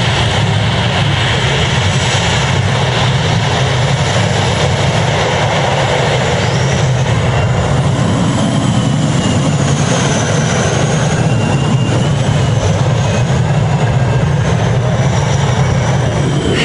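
A tractor-pulling tractor fitted with two turbine engines of about 3900 horsepower roars continuously at close range, a loud, unbroken blast of engine noise with a high turbine whine layered over the rumble.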